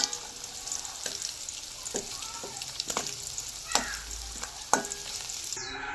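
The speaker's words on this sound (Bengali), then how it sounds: "গ্যাসটা কমিয়ে পনিরটা হয়ে গেছে, এবার আমি এটাকে তুলে নেব।" Paneer cubes frying in hot oil in a pan as the heat is lowered, a steady close sizzle with several sharp clinks and scrapes of a spatula as the pieces are stirred and lifted out.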